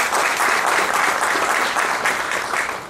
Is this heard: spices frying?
no